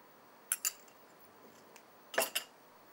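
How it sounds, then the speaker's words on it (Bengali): A utensil mixes flour for chocolate doughnut dough in a bowl, giving two pairs of sharp metallic clinks against the bowl, separated by a quiet pause, with faint scraping between. "ময়দাটা এখন মিক্সড করে দিব আমি"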